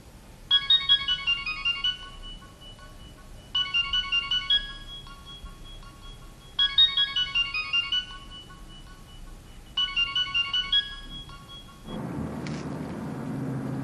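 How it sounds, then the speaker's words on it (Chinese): A mobile phone ringtone plays a short melodic pattern four times at even intervals over a low steady hum, then stops abruptly into a rumbling background. "接电话呀？ 你接呀。"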